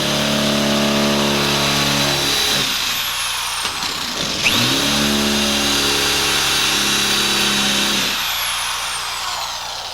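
A power drill boring a 3/16 inch hole into a lock whines loudly in sustained bursts, pausing briefly and restarting, its pitch sliding as the motor spins up and slows down.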